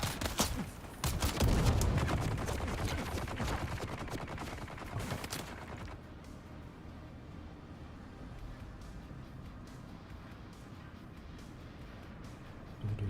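Dense bursts of automatic gunfire and headshots in the video game Dune crackle loudly for several seconds, then fade into quieter scattered shots and rumbling game ambience.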